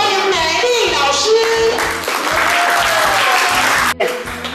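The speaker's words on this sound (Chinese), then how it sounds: "来，我们以最热烈的掌声欢迎美丽老师。" Warm applause from a community group welcoming a teacher, lively close clapping that holds steady for several seconds, with a cut near the end and background music or voices underneath.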